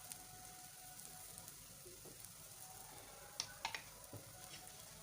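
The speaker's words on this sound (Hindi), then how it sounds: "अब दूसरे साइड से हम सेक रहे हैं।" A paratha brushed with ghee roasts on a hot griddle, giving a soft, steady sizzle with a few small crackles and pops near the end.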